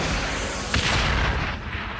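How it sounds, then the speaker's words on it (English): A German Panzerfaust anti-tank round strikes and destroys a Stuart tank, a loud, harsh blast that stands over a steady background roar, with no talking. "And then I heard the explosion."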